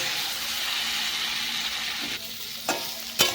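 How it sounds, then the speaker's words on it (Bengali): Spice masala being sautéed in oil for a light katla fish curry with potato and cauliflower, a loud continuous sizzle and hiss close by, with a few scraping stirs toward the end. "এইভাবে সুন্দরভাবে কষিয়ে নেবেন"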